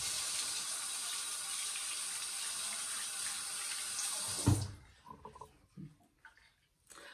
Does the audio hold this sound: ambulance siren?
no